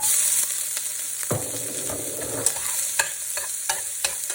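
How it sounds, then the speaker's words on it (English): Onions dropped into a hot pan for spinach pie hit with a sudden burst of sizzling, then keep frying under a steady hiss punctuated by sharp stirring taps, close up with no talking. "On. Heat on. Onions in."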